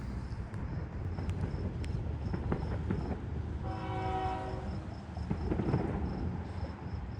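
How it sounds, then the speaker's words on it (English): A southbound train passes at night, a steady broad rumble of rolling cars filling the clip, with a distant horn-like tone briefly in the middle and crickets chirping faintly throughout. "Southbound train."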